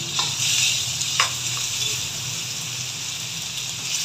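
Meat sizzles steadily in a new frying pan while monggo is cooked for lunch, a constant bright hiss with a few small crackles and stirring knocks, close and continuous with no talking.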